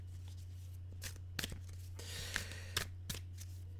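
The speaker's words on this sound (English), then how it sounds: "Wild Unknown, shuffling." Wild Unknown Oracle cards are shuffled by hand in a quiet room, a handful of soft, brief riffling and slapping bursts over a steady low electrical hum.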